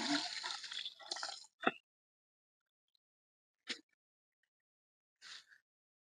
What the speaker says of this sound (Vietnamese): Đây xả nước này.